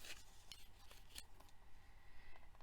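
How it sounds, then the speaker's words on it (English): Scissors cut pieces of cardstock in half with a few quick, faint snips and light paper rustling, close by and with no voices. "these two are going to get cut in half"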